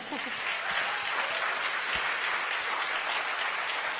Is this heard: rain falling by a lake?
no